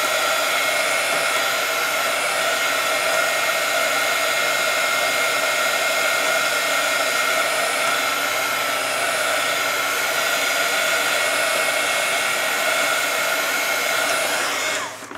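A hair dryer blows steadily to dry an art journal page worked with white pen, a loud, close, continuous whoosh that holds for about fifteen seconds before cutting off at the very end.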